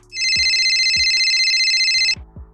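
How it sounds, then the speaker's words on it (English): A mobile phone ringtone rings loudly and continuously for about two seconds, a bright electronic melody with low thumping beats underneath, then cuts off abruptly. "Suddenly my phone rang,"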